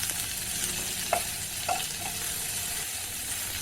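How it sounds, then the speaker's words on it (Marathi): Sliced onion and whole spices, including a small cinnamon piece, frying in oil for a restaurant-style paneer dish, giving a continuous close sizzle with a few light stirring taps, steady and alone without voices. "आता कांद्यासोबत हेच मसालेसुद्धा चांगले भाजून घ्यायचे"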